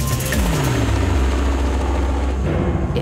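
A steady, loud low rumble and whir of a helicopter in flight, heard from close by, with a pitch drop early on and no speech.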